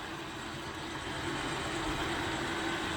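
A model train runs steadily on a club layout's city module at an open house, giving a continuous close rumble and hum that holds even and unbroken throughout, with no talking.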